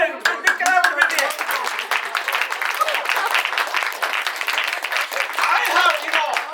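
An audience at a conference session claps loudly and steadily, a dense crisp patter of many hands lasting throughout, with faint voices mixed in.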